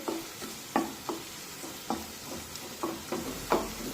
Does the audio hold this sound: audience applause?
no